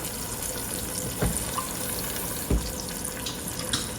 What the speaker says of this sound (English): As usual, I'm going to fill 1/4 of the can up with some water.